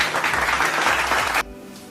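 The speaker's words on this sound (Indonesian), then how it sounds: "Tepuk tangan untuk Dina dan Bayu" Classroom of fourth-grade primary school children clapping for two classmates, a brisk burst of many small hands close by that cuts off abruptly near the end, leaving a quiet room.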